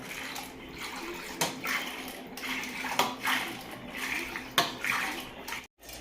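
Buttermilk is churned in a pot with a one-handed hand churner, giving rhythmic liquid sloshing and swishing strokes with occasional sharp knocks against the vessel, fairly quiet and close.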